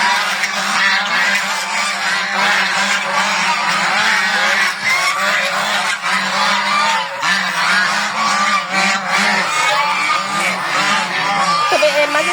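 Geese honking loudly and continuously at close range, a dense overlapping flock of harsh calls with no letup.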